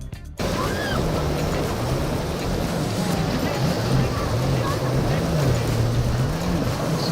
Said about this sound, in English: he lost control of his boat in the treacherous condition of the ocean